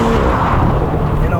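A 2024 Porsche Macan GTS accelerates hard in Sport Plus mode, its engine giving a loud, steady low rumble from inside the cabin while someone talks over it.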